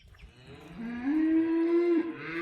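A single cow moos on a cattle farm, one long rising low call, close and clear with no voices over it.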